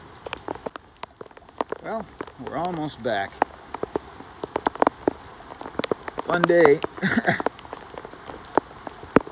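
Steady heavy rain patters on surfaces close by at a boatyard, with a voice speaking briefly over it.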